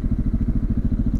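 A supermoto motorcycle's loud exhaust thumps in a fast, even pulse at close range, a deep throbbing rhythm with nothing else heard.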